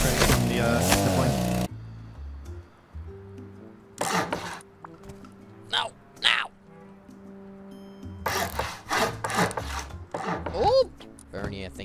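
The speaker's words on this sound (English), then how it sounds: "Where'd you get the chainsaw anyway?" A chainsaw cuts wood in the survival video game Rust, heard as short scraping, grinding bursts separated by quieter gaps, with people talking over it.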